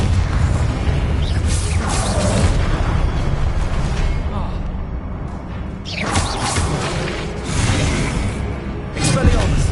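Confringo spell explosions go off in Hogwarts Legacy, loud booming blasts and bursts laid over a dense, continuous battle roar, with voices heard among them.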